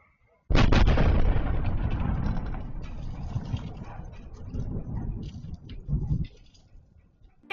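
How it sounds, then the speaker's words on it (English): Distant explosions in Crimea: a sudden heavy blast breaks the quiet, then a long rumbling roar slowly fades, with a second thudding burst near the end. "Residents of 3 Crimean cities could hear explosions. Hear them for yourself."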